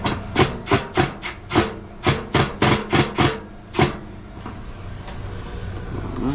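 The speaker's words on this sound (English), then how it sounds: "Then we will go ahead and tighten these up slowly," Mounting bolts on an R-22 package unit's evaporator motor are tightened in about a dozen quick, sharp metallic clicks, close and loud, followed by quieter background hum.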